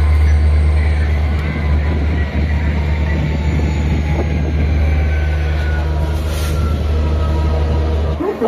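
Rampurhat-Howrah Sahid Express halted at the Howrah outer, heard from inside as a steady low rumble and hum of the stationary train with faint background clatter, loud and continuous throughout.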